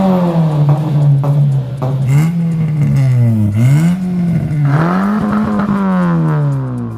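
A car with a large aftermarket exhaust muffler revs repeatedly, its deep, loud tone rising and falling in several throttle blips close to the tailpipe, with no voices.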